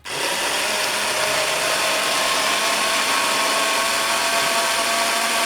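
A kitchen blender purées shallots with a loud, steady whirring motor drone from start to end, close and continuous, with no talking.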